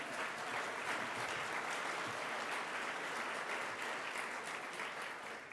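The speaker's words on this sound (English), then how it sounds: "Let's clap for the colleges." Sustained audience applause at the Boston Public Schools valedictorian luncheon, honoring the represented colleges; steady dense clapping from a large crowd throughout, no talk over it, tapering slightly at the end.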